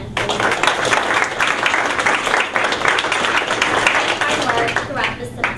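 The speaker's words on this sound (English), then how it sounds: "let's all give the students at Henderson Middle School a round of applause" Applause from an audience for students of Henderson Middle School at a University of Richmond event, a dense steady clatter of clapping lasting several seconds with voices murmuring underneath.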